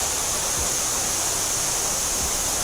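Shrashamliu waterfall pours in a steady, dense roar of rushing water that stays loud and even throughout, with no other sounds.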